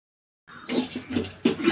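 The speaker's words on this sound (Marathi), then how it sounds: "भांडी पण घासायच्या ती भांडी घासून घेते" Dishes, pots and pans are washed by hand at home, with clinks and scraping knocks of metal utensils coming in short bursts after a moment of silence, close and moderately loud.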